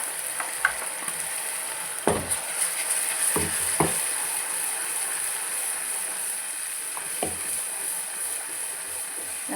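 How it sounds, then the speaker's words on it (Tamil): Masala with ginger and garlic sautéing in a pan for country chicken fry, giving a constant close sizzle with a few scattered stirring scrapes and knocks, and no talk. "மசாலாலாம் நல்லா ஸ்மெல் அது போகிற வரைக்கும் நல்லா வதங்கணும்"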